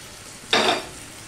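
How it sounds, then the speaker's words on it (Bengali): A brief scraping stir of onion stalks and tomato in a pan, one short rustling swish about a quarter second long over a quiet background. "দিয়ে সম্পূর্ণটা মিশিয়ে ভালো করে এভাবে ঘাঁটতে থাকবো"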